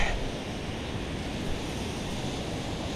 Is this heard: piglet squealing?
no